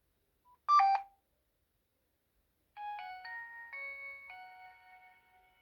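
A Nokia 6015i mobile phone powers on with its startup tones: a short, bright electronic chime, a pause, then a longer clean melodic sequence of steady beeping notes, heard alone and fairly quiet.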